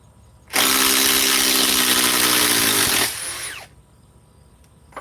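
A DeWalt impact driver runs in one loud, steady burst of about two and a half seconds with a high whine, then winds down and stops, close up with no talking.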